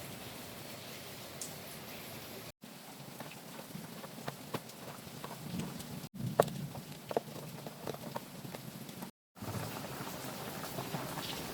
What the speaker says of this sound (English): it's noisy and hope you understand because it's raining